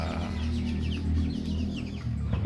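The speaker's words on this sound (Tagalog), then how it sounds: "Meron pong makulit na manok pa rin na pumapasok dito." A chicken clucks inside a coop, a few close, fairly soft clucks over a steady low background hum, with no talking.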